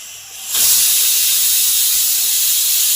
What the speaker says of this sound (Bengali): একটা সিটি উঠে গেছে গ্যাসটাকে অফ করে দিলাম